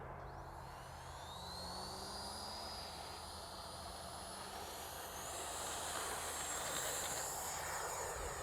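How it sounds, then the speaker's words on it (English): An FMS Futura 64mm EDF RC sport jet flies at sunset, its electric ducted fan whining steadily with a rising and falling pitch as it passes, growing slightly louder toward the end over a faint outdoor background. "third flight with this FMS Futura."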